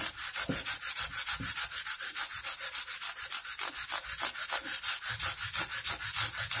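A fret leveling tool rubs back and forth across mandolin frets in steady, rapid scraping strokes, close up and fairly loud, with an even sanding rhythm and no talk.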